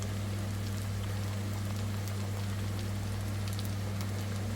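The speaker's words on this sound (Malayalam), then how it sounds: "എണ്ണയിൽ കിടന്ന് നന്നായിട്ട് തിളച്ച്" Nei pathiri, a thick rice-flour dough flatbread, frying in hot oil, giving a dense, continuous, steady sizzle throughout without any voices.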